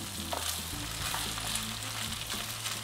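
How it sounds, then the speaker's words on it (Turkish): Peanut rice pilaf ingredients sauté in a pan, giving a steady, even sizzle with soft stirring scrapes throughout and no talk. "Şöyle güzel bir karıştırıp birazcık kavuracağım."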